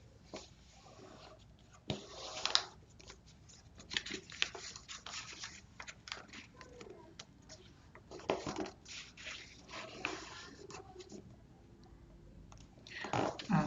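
A cardboard box is folded and creased by hand, giving irregular crinkles, scrapes and soft thumps of handling at close range, with quieter pauses between bursts.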